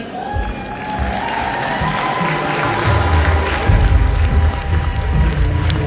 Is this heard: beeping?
no